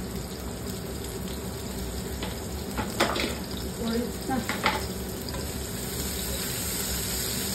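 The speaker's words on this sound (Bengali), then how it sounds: "এখন দিয়ে এনে রসুন কুচি আর আদা কুচি, এগুলো একটু ভাজি নেই।" Chopped garlic and ginger frying in a pan, a steady low sizzle with a few scraping stirs and light clatter in the middle; no talking.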